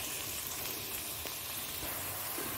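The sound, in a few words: onions frying in a pan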